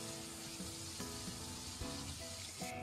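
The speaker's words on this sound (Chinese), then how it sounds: "下入猪肉，可以保持最小火，慢慢的炒" Pork frying slowly in a little vegetable oil over the lowest heat, a steady soft sizzle with occasional light stirring scrapes, close and continuous without any talk.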